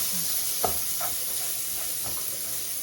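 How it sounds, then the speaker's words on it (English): Chopped onions sauté in a hot pan for a shrimp spaghetti stir-fry, a steady close sizzle broken by a few scrapes and stirs of a utensil, with no talking over it. "put my onions in there to saute it."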